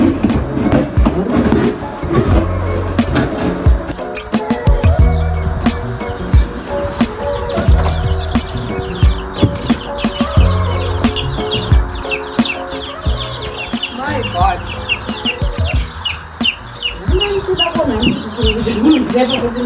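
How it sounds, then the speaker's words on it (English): Brahman chicks chirping and peeping in a box on a Zimbabwe chicken farm, with constant busy cheeping close by and handling noises and rustling underneath. "let's poke some holes in here and put the little chickies in here"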